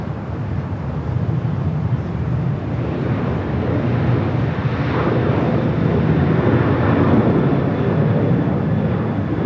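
A distant airliner, an ITA or Austrian jet, takes off on the south side of LAX, giving a steady broadband jet roar that swells slightly and holds throughout.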